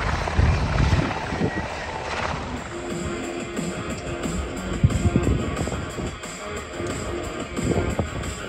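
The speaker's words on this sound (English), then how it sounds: "You'll see the Seahawk now moving to the left of the airfield." Seahawk helicopter flying over the airfield at the Australian International Airshow 2023, a steady rotor and turbine roar held at moderate distance throughout, with no talk over it.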